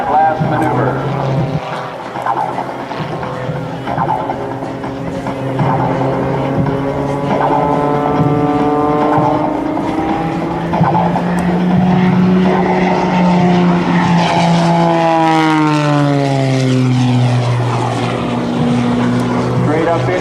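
Propeller aerobatic airplane flown by Sean Tucker at an air base open house, its engine droning loudly and sweeping in pitch as it climbs, rolls and passes overhead, with an announcer's voice talking over it.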